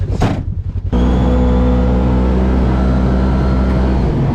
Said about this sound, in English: Unbelievable how smooth even the engine is in it.